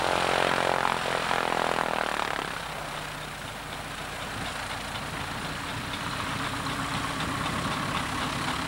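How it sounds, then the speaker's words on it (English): Propeller training aircraft at Woodvale Aerodrome taking off with University Air Squadron cadets, its engine droning loud and steady, easing slightly after the first seconds and holding a continuous hum. "University Air Squadron cadets, having received permission, take off for a training flight."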